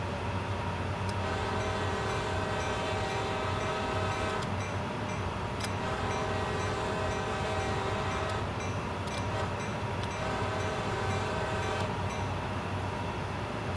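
A CSX heavy-haul freight train from Train Simulator World rumbles along continuously, with a diesel drone, wheel clatter and a few sharp clanks, alone and steady.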